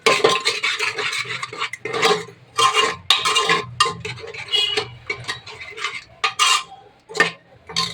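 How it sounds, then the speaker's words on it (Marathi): Masala mixed with fresh coriander and mint in a pot, with close, busy stirring, scraping and light clinks of a spoon against metal in quick bursts separated by brief pauses. "इथे हा मसाला त्यानंतर कोथिंबीर आणि पुदिना मस्त असं मिक्स करून घेते"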